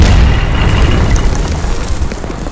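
A heavy, deep boom from an Israeli artillery shell explosion in Lebanon opens loud and rumbles off into a fading roar.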